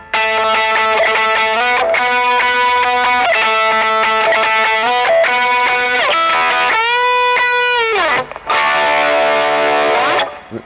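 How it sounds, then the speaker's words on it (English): Electric guitar through a heavy distortion pedal with no delay chugs and rings with thick, high-gain tone, sustained chords and a bending phrase from a solo, loud and continuous. "Big, heavier, lot of gain."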